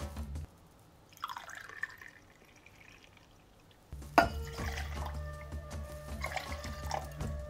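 Black vodka is poured into a chilled cocktail shaker, a short soft liquid trickle followed by a sharper clink and a sustained ringing, splashing pour close by, with no speech.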